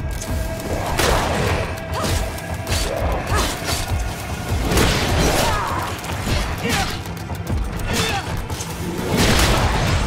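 A grenade goes off in the Greedfall action role-playing game amid chaotic combat. Repeated crashing bursts, thuds and whooshes strike loudly one after another, with mechanical clatter between them.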